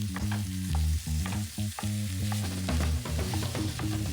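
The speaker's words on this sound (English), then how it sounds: "We're going to brown this ground beef, breaking it up and stirring it as we go." About a pound of ground beef browning with onion and garlic in a pan, sizzling steadily and loudly while a utensil stirs and breaks it up in repeated scraping strokes, with no voices.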